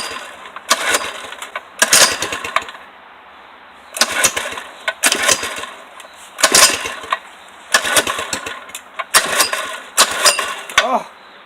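A 97cc Baja minibike engine runs roughly and won't settle at idle, surging in repeated loud bursts every couple of seconds with sagging gaps between them, heard up close.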